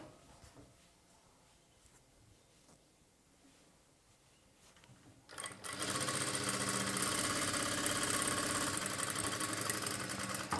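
A sewing machine stitches a plain blouse, kicking in halfway through with a rapid, steady mechanical whir and clatter that runs loud and close to the end after a quiet start.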